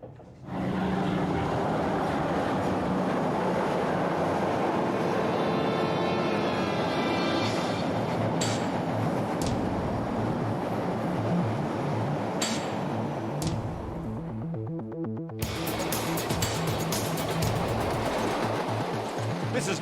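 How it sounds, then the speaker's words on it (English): An old rail motor train on a local service in Newcastle, New South Wales, rumbles along steadily, with clattering wheels and rhythmic mechanical knocking throughout. "I'm on the local rail motor service into town."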